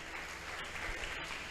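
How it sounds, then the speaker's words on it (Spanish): A church congregation claps for the Lord during a sermon, a brief dense patter of applause heard at moderate distance with no voices over it. "¿Cuántos le aplauden al Señor, hermano?"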